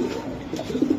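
A Budapest racing pigeon coos close by in a brief run of low, throaty rolling pulses, rising toward the end, with no voices over it.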